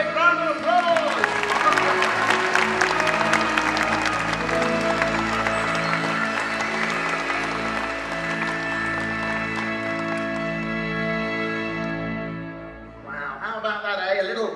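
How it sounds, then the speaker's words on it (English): Audience applause and cheering at a Star Wars Weekends stage show, mixed with sustained music and voices, fading near the end before a brief burst of speech returns. "ladies and gentlemen, give them a big round of applause"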